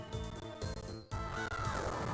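Cawing of video game birds in Castlevania: Portrait of Ruin's Forest of Doom area, a few short calls mixed into busy background music, with gameplay effects and a brief dropout midway.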